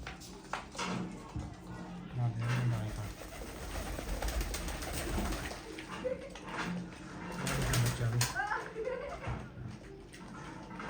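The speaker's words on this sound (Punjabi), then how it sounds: "ਰਾਤ ਦੇ ਵੱਡੇ ਕਬੂਤਰਾਂ ਨੂੰ ਖਰਾਕ ਖਾ ਲੈਣਗੇ" Pigeons coo in a loft at night as feed and water are set out, low soft coos rising twice amid steady background clatter while someone talks throughout.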